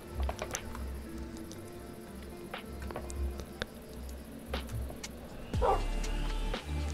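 A dog in the DREAMcraft Minecraft game barks in short, quick yips spread across the stretch, mixed with game clicks and patter, and ends in a louder burst.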